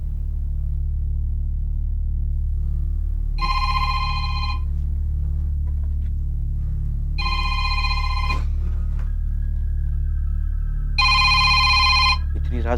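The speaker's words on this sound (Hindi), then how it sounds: "इतनी रात गई जूलिया का फोन।" A telephone rings late at night in three loud, evenly spaced bursts of electronic trilling over a steady low rumble, with a faint tone lingering between the last two rings.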